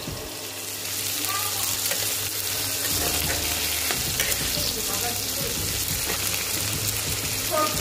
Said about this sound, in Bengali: গাজর এবং কপি, সেগুলো একটু হালকা করে ভেজে নেওয়া হচ্ছে।